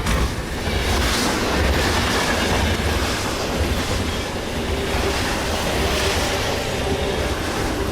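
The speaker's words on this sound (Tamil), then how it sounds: "ஒரு டேங்கர் ட்ரெயின், அதுவும் ஃபுல்லா ஹைலி இன்ஃப்ளேமபிள் ஆயிலோட டிரைவர் இல்லாம வேகமா வந்துகிட்டு இருக்கு" A driverless tanker train loaded with highly flammable oil speeds past, a loud, continuous rumbling roar with rattling wheels and faint squeals, steady throughout.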